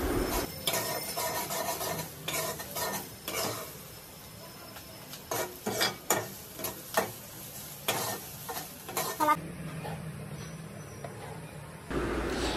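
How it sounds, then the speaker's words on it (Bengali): Garlic and onions are stirred and fried in oil until browning, close up, with a steady sizzle under repeated rasping spatula scrapes against the pan and no talking. "রসুন আর পেঁয়াজগুলো ব্রাউন কালার হওয়া পর্যন্ত ভালোভাবে নেড়ে চেড়ে দিতে হবে।"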